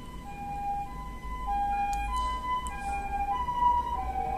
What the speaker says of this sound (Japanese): ちょっと救急車が来ましたね。